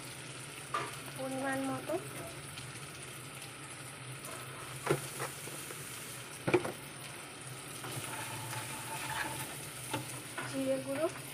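Ground spices stirred and fried in a pan, a soft continuous sizzle with scraping stirs and utensil knocks, while someone speaks briefly over it.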